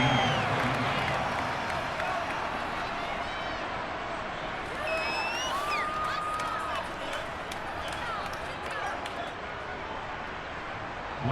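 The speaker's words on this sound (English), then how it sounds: "How about some applause for the defense there?" A video game stadium crowd in an American football match roars and applauds steadily throughout, with whistles cutting through and a commentator talking over the noise.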